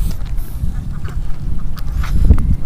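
Ducks on a duck farm of about 150 birds kept at a military firing range in Indonesia, a dense flock quacking continuously at close range with a low rumbling background and no talk.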